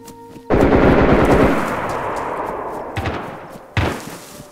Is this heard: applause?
no